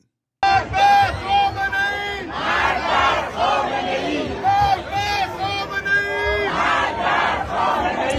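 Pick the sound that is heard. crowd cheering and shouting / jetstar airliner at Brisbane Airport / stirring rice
crowd cheering and shouting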